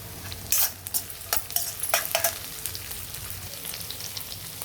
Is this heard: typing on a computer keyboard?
no